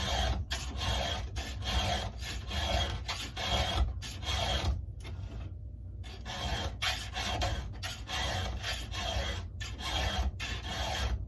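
A hand file rasps across the chain of a Stihl MS 441 chainsaw in quick, rhythmic back-and-forth strokes, close and fairly quiet, with a short pause midway before the steady filing resumes.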